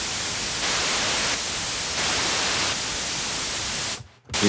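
Synthesized white noise, shaped by cutting the mids and lifting the lows and highs, hisses loudly and steadily, shifting slightly in level in blocks before cutting out briefly near the end.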